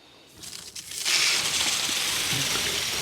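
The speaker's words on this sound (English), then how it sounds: "You hear the water running." Water rushing into a garden sprinkler line after the tap is turned on, a soft hiss building after about a second into a steady, broad rushing that continues to the end, with no talking.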